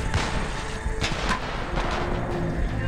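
Gunfire in the video game PayDay 2, a dense stream of booming shots and impacts overlapping in quick succession, loud and close throughout.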